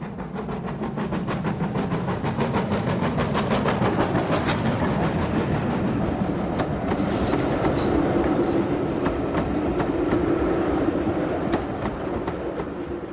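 A GWR steam locomotive, 7827 Lydham Manor, built in 1950, rumbles steadily past hauling a train with a rhythmic clickety-clack of wheels on rails, loud and close throughout, with no talking.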